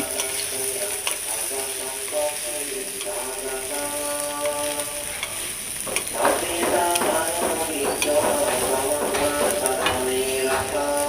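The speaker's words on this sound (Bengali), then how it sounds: "পেঁয়াজটা একটুখানি নরম হলে সয়াবিন আলু ঢেলে ভেজে নেব একটু লাল লাল করে।" Onion with soybean chunks and potato frying in a pan, a continuous sizzle and crackle with occasional stirring scrapes, music playing faintly behind.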